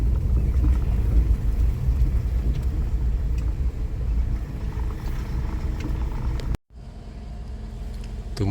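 A car on a road near a mountain trailhead passes close by with a loud, low engine rumble that gradually fades, before a brief gap and quieter background after.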